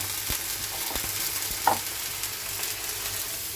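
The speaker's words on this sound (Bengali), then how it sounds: "এদিকে তেল গরম হয়ে গেছে এখানেও দিয়ে দেবো পেঁয়াজ লঙ্কাটা ভেজে নেবো" Onion and chilli fry in hot oil for an egg curry, giving a steady, close sizzling hiss throughout with one brief louder crackle partway through; no one speaks.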